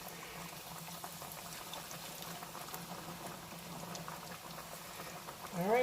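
Hot oil sizzles and bubbles steadily at close range as catfish fillets fry in a heavy-bottomed pot, a constant crackling fry that swells slightly louder at the end.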